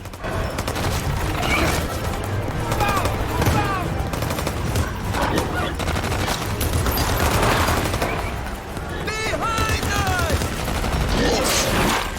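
Sustained bursts of gunfire and rapid fusillades fill a battle against fast, frenzied beasts, loud and continuous throughout, with shouting voices and creature cries rising over the shooting.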